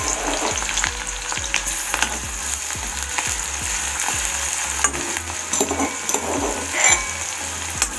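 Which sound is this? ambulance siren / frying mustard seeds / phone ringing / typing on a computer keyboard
frying mustard seeds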